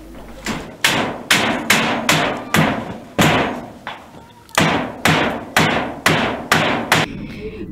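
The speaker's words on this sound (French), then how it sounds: "Ce coup de marteau traduit la réparation de toitures emportées par la pluie ravageuse" Hammer blows from workers repairing roofs torn off by a violent rainstorm, about a dozen loud, ringing strikes at a steady rhythm roughly every half second, each one decaying quickly, with faint background noise.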